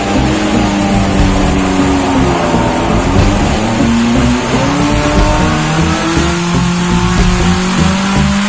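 A 2011 Mitsubishi Lancer EX fitted with a K&N SpeedBox and HotPipes headers runs on a dyno, its engine roaring loud and close as the revs climb steadily through the gears, with no talking.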